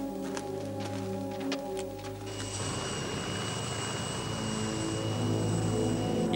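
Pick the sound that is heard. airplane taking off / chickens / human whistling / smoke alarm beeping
airplane taking off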